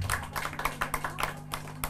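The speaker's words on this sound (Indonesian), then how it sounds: "Tepuk tangan dulu untuk pacarannya." Scattered hand clapping from a small wedding crowd, a handful of people applauding for the couple with uneven, fairly close claps.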